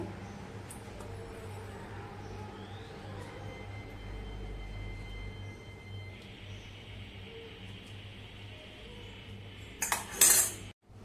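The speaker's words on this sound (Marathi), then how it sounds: "आता आपण चमच्याने सगळा गर काढून घेऊया" A thin spoon scrapes ripe mango pulp away from the peel for aamras: a soft, steady scraping close by, ending in a brief, sharper clatter.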